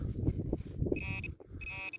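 Two short tonal beeps from a metal detector sweeping a field beside a campsite, each a bright electronic tone following low rustling and scraping of digging soil.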